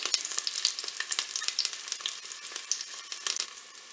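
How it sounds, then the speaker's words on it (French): Onions sautéing in a Cookeo electric pot, a close, bright crackling sizzle with constant small pops throughout. "je vais mettre mes oignons bien dans la cuve. Là, je vais les faire revenir"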